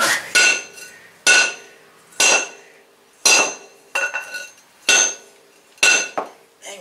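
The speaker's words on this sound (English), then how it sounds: "Dang, that's a heavy hammer." Heavy hammer striking metal on a mini dozer, seven loud ringing clangs at roughly one-second intervals, each with a bright metallic decay, close and alone.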